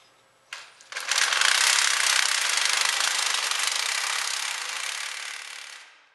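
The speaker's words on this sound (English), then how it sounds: "Screw in the assembly using a 1/2 inch square drive socket wrench or impact wrench." An impact wrench drives a 1/4-inch threaded rod assembly onto a 3/8-inch concrete screw, giving a loud, continuous close-up hammering rattle for about five seconds after a short start, then stopping.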